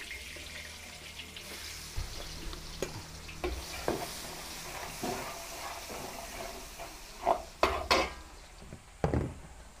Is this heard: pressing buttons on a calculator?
no